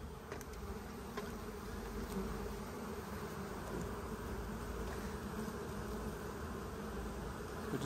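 Honey bees buzzing at a trap-out gate on a tree colony, a steady dense droning hum of many bees close by, continuous and even throughout.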